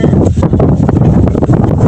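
Strong wind buffets the microphone in loud, gusty rushes with rustling, continuous and close, on Mt. Batulao.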